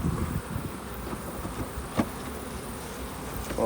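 Honeybees hum around an opened hive frame during a hive inspection, a steady diffuse insect drone with a brief louder buzz as one passes close, continuous throughout.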